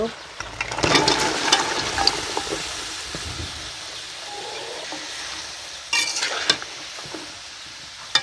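Vegetables sizzle in a hot pan with a continuous frying hiss, while a spoon scrapes and stirs in bursts through the clip.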